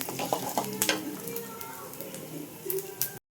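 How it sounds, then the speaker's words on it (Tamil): Crab gravy masala frying with onion, ginger and garlic, a close sizzle broken by stirring clinks and scrapes against the pan, with a voice speaking softly beneath, ending abruptly. "பார்த்தீங்கன்னா நல்லா வறுபட்டுருச்சு. இந்த கூட வெங்காயம், இஞ்சி, பூண்டு,"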